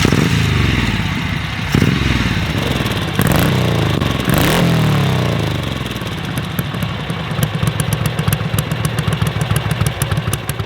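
A classic Ducati motorcycle engine revs hard in several rising, clattering bursts, then settles into a steady, throbbing low rumble close by, with no talk over it.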